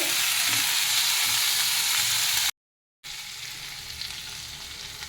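Steady sizzling frying of a handful of coriander leaves and mint being sautéed in a pan, a continuous close hiss with a brief cut to silence midway.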